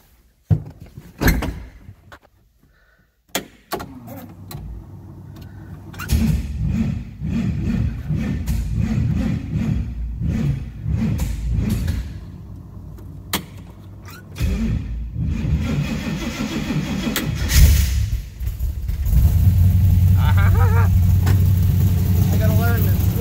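A 1970 Chevy Nova drag car, with a door thump and clatter first, then the engine catches and settles into a loud, rough, sustained rumble that grows louder toward the end, with people talking nearby.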